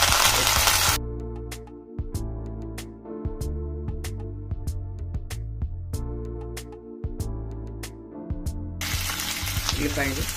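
Chopped onion and green chillies drop into hot oil with fried cashews for godhuma rava upma, a loud sizzle bursting at the start and returning at the end, with a musical interlude between.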